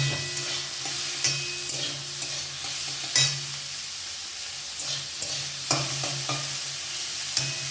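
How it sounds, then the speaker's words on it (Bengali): Onion frying in a pan with nigella seeds for a hilsa fish tail bharta, a steady close sizzle broken by occasional clinks and scrapes of stirring. "এবার আমি পেঁয়াজটা ভেজে নেব। পেঁয়াজটা একটু ভেজে নেব, খুব বেশি লাল করে ভাজবো না।"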